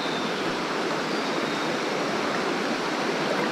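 Mountain stream water rushes and churns in a loud, steady wash of broadband noise, close by and continuous with no break or voices.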